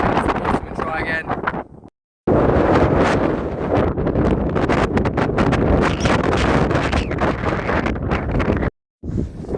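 Strong wind on the slope of a New Zealand volcano pounds the microphone in loud, continuous gusty roaring that twice cuts out briefly.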